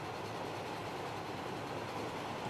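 A Great Western steam locomotive in Transport Fever 2 rumbles along the rails, a steady low rolling noise with a faint rhythmic clatter, continuous and fairly quiet, with no voices.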